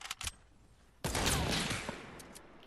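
Sniper rifle fire in Fortnite: a few sharp clicks, then a loud gunshot crack with a long rumbling tail that fades over about a second, fairly quiet overall.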